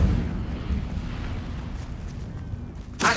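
The Incendio fire spell bursts out in Hogwarts Legacy as a deep, rumbling blast of flame that decays into a low roar, ending with a sharp crackling burst, loud and up close.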